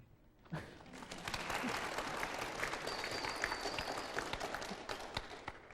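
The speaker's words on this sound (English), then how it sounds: "For those of you who were here, applause is appropriate." An audience at a staged performance of Antigone breaks into sustained applause after a brief pause, a dense even wash of clapping lasting several seconds with a few brighter individual claps standing out.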